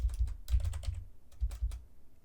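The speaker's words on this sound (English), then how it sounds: "I'm so sorry if you're hearing the typing" Computer keyboard typing in quick bursts of clacking keystrokes, close and fairly loud, with a short pause in the middle and no speech over it.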